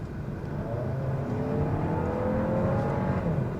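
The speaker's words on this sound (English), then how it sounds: "Here, I'm going to floor it." A 2022 Audi Q3 pulls hard at full throttle, its engine note climbing steadily as a smooth, rising drone heard from inside the cabin, with no talking.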